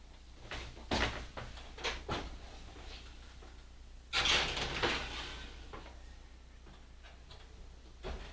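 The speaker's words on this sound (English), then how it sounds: "So we'll put it in the oven and we'll set the timer for 15 minutes." An oven door is opened and shut while loading a tray of caramel popcorn, heard as a few quiet clunks and taps spread over several seconds in a calm kitchen, the loudest knock midway.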